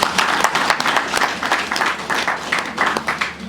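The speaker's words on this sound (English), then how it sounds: "Let us clap for him." An audience claps at the commissioning of a university Drosophila laboratory in Nigeria, steady dense applause filling the space at moderate loudness with no talk over it.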